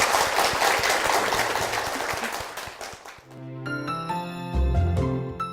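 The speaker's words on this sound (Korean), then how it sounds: "여러분 축복의 박수 부탁드립니다." A church congregation claps in a warm, dense burst that fades out, giving way to chiming bell-like music.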